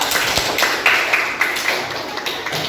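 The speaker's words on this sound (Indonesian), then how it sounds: "tepuk tangan untuk si Pak" Brief scattered applause in a classroom after a student's correct answer, a quick run of sharp claps lasting a couple of seconds.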